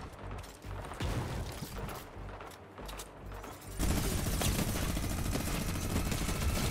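Minigun fire in Fortnite begins as scattered, moderate bursts and then swells into a loud, continuous, rapid stream of shots that holds steady to the end.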